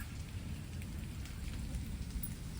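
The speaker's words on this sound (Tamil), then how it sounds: "மழை வேற இறங்கிடுச்சு மழை செம்ம மழை இறங்கி பாருங்க" Heavy rain pours down in a dense, even hiss with low rumbling patter, steady and close throughout, with no voices.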